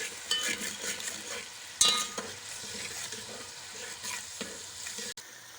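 Yogurt being stirred into sizzling masala for vegetable pulao, a continuous bright frying hiss with scattered spoon clinks and scrapes, close and without voices.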